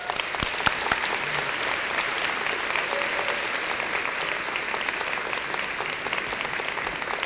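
Audience applause at a UCLA humanities commencement ceremony, welcoming the dean: a steady, even clapping of a large crowd, moderately distant, sustained throughout without voices.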